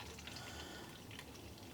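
Water drains off cooked rhubarb in a steady, hissing pour that runs unbroken and even for under two seconds, close and alone.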